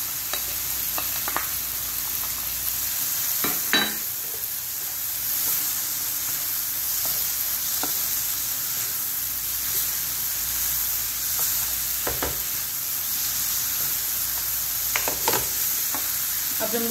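Instant noodles with masala and sauce stir-frying in a pan, a steady hiss of sizzle under repeated scraping and tossing strokes from a utensil, close and moderately loud.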